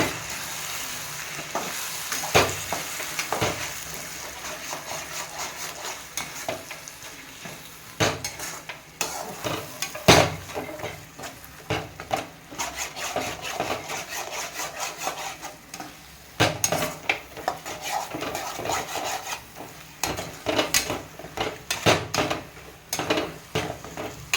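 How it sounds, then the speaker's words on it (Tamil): Beaten eggs fry in a pan for a cluster parotta dish, a steady sizzle under repeated metal scraping and clanking of a spatula stirring against the pan. "முட்டையை உடச்சி ஊற்றியாச்சுங்க. நல்லா கிளறி விட்டுக்குங்க."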